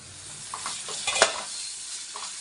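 Onions frying in a pan with salt for tomato dosa batter, a soft, steady sizzle with a few light stirring scrapes and one sharper clink of the utensil near the middle.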